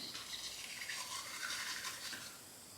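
Brisk scrubbing of a toothbrush with Ultra Bright toothpaste against teeth, a close, steady bristly swish that eases off near the end.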